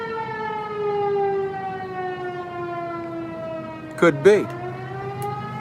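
An outdoor tornado siren wails in a long sustained tone that slowly falls in pitch, loud and steady, with a couple of brief spoken words breaking in near the end.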